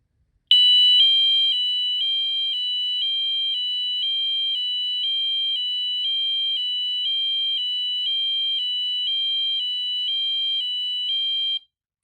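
Honeywell-rebranded Wheelock MT fire alarm horn sounds alone and loud for about eleven seconds, an electronic high-low tone alternating in an even rapid rhythm, then cutting off abruptly.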